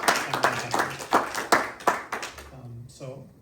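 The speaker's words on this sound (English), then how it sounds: "So another round of applause for our readers." Brief applause for readers at a literary reading series, a handful of people clapping in a loose rhythm for about two and a half seconds before it fades and a voice begins speaking.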